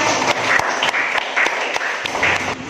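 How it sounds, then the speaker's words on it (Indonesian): Applause from a group, a steady patter of many hands clapping at moderate loudness, with a few sharper individual claps standing out. "Beri tepuk tangan yang meriah kepada Enis ya."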